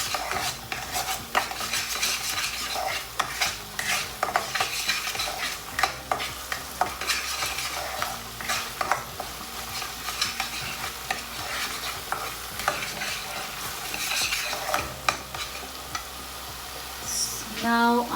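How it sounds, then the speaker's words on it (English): A spoon stirs egg curry with garam masala in a frying pan, scraping and knocking repeatedly against the metal over a low continuous sizzle, close and busy for the whole stretch. "Now going to stir it."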